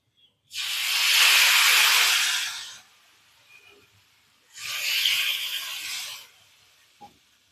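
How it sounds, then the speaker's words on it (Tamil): Rice flour dosa batter sizzles loudly on a hot pan in two long hissing bursts separated by a brief quiet gap, with small clinks in between and no talking. "இன்னொரு தோசை ஊற்றிக்கலாம்"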